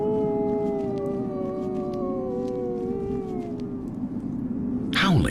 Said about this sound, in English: The type of howl also changes according to the wolf's social rank.